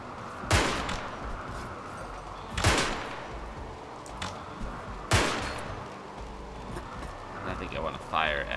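Musket fire in the colony game RimWorld: three widely spaced, loud, sharp shots ring out a couple of seconds apart, each with a short decay, followed by fainter clatter near the end.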